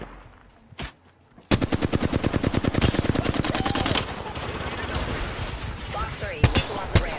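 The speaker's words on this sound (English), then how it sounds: "I'm taking fire." Automatic weapon fire in the PlayStation 5 game Apex Legends: a single early shot, then a long rapid burst of loud rounds that blurs into continuous noise, with a few sharper shots near the end.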